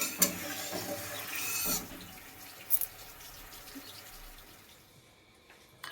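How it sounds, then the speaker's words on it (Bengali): Water is poured into a fruit cake mixture, giving a splashing, splattering rush for the first couple of seconds that then fades to quiet trickles and faint clatter. "জলটা খুব সাবধানে দিতে হবে, কেননা জল দেওয়ার সময় প্রচুর পরিমাণে এরকম ছিটবে।"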